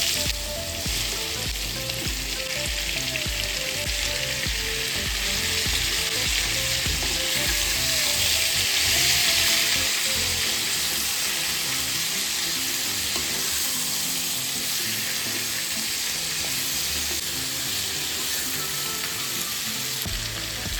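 Chopped raw green mango tossed into a hot mustard seed and asafoetida tempering gives a steady, close, loud sizzle of frying that runs unbroken for about twenty seconds, with no voices.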